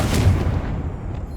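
A Confringo blasting spell goes off in Hogwarts Legacy as a single heavy, booming blast that rumbles and fades within about a second.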